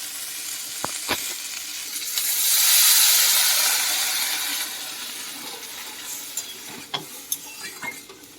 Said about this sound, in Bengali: দিয়ে দিচ্ছি আমি এর মধ্যে জল